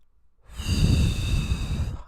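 A deep breath during a breathing exercise, a single long, close, airy inhale or exhale that swells after a brief silence and holds steady for over a second.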